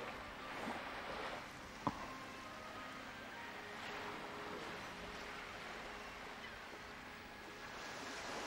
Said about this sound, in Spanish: Solo el murmullo del mar.